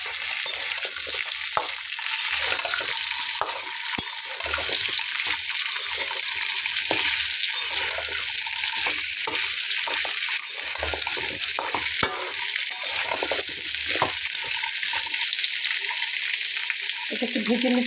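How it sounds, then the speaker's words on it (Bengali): Potatoes and drumsticks frying in oil in a pan, a constant bright sizzle with intermittent stirring knocks and scrapes up close, steady throughout and no speech. "তো প্রথমে আমি আলু এবং ডাঁটাগুলো দিয়ে খুব ভালো করে একটু ভেজে নেব।"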